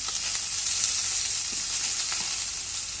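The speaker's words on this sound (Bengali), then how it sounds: "এখন মাছ ভেজে দেয়" Fish frying in a pan at home, a steady close bright sizzle and crackle of hot oil that runs unbroken throughout with faint stirring clicks and no talking.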